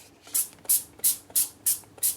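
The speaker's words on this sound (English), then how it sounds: "I just briefly spray the baking sheet or foil, just then they definitely don't stick." Cooking spray is misted onto a baking sheet or foil in six short, evenly spaced hissing bursts, close and clear against a quiet room.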